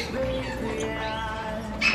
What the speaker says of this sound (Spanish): venimos a una tienda donde es de puros pájaros